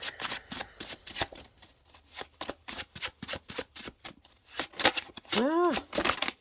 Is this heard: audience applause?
no